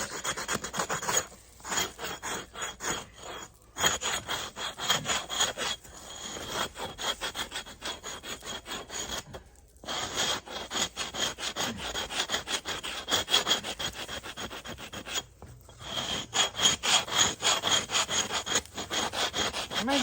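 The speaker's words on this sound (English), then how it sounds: "as I scrape, a lot of that meat stuff's coming on off, thinning it up some" A knife blade scrapes flesh from an animal skin in long, repeated rasping strokes, close and fairly loud, pausing briefly between passes with no talking.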